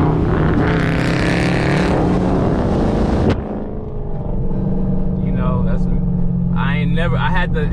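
A Dodge Hellcat's engine roars loud and close while driving, with a sustained rev that drops abruptly, then settles into a steady drone as a voice speaks over it.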